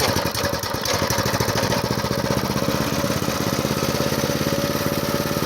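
A Predator 224 go-kart engine runs close and loud after a pull start, a continuous rapid chugging drone with a steady throttle, no talk over it.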